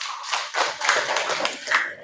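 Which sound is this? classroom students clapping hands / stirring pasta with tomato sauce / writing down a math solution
classroom students clapping hands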